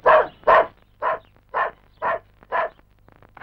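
A dog barks in a steady series of about seven evenly spaced barks, fairly close and clear, with no talking over it.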